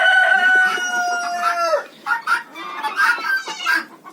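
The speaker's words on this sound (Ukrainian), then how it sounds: "Зараз у нас 10 година, тому що півники співають гарно." Roosters crow in the morning on a winter village farmstead among chickens and guineafowl: one long, loud crow near the start, then several shorter overlapping crows and clucks from nearby birds, with no talking.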